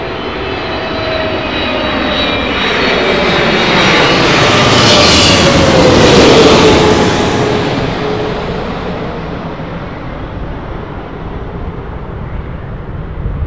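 British Airways Airbus A380 jet passing low overhead on arrival at Heathrow, its loud engine roar swelling over several seconds, peaking, then slowly fading as it moves away, with no talking.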